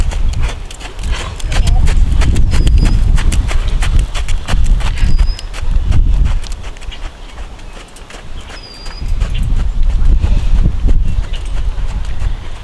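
A ridden horse walks on a country tour, its hooves giving a steady, close clip-clop that swells and fades in waves while someone speaks over it.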